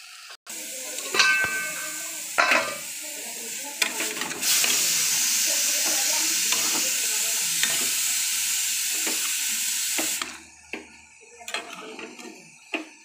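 Banana flower curry with garam masala frying in a pan, a steady sizzle broken by repeated scraping stirs and clinks of a utensil, loud and close with no talk.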